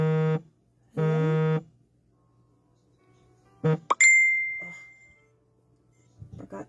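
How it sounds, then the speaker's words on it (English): A phone notification alert plays as two identical buzzy electronic tones, followed by a quick rising chime that ends in a brief sustained ring, nearby and clear, with faint movement afterward. "Forgot to turn my notifications off."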